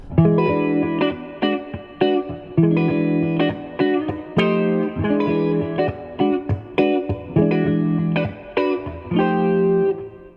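Distorted electric guitar strummed in a steady, chugging up-and-down funk rhythm imitating a train, with sharp accented hits, played loud and alone.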